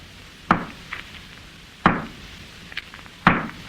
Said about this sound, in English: Hey, what are you doing with that hammer? Oh, that's what I'll rap on the wall with.